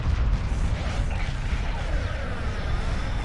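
Spaceship explosions in a space battle video game form a continuous dense roar of booms and rumbling blasts, loud and sustained with no clear pauses.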